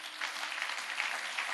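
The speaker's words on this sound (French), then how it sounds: "on acclame." Church congregation applauding their pastor, a dense steady wash of clapping hands from a large crowd, filling the room evenly throughout.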